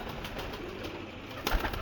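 Teddy pigeons at a Lahore loft give soft, low cooing, faint and close, with a light rustle and a brief louder knock near the end.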